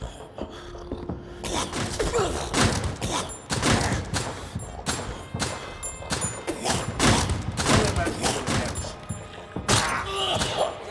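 Rapid bursts of gunfire in a horror video game, repeated sharp shots and thuds across the whole stretch, loud and close with dense crackling between them.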